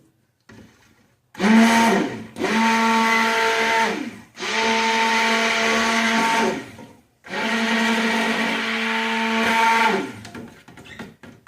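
A stick blender mixing liquid soap whirs in several long bursts with brief pauses between them, a steady loud motor drone, no talking.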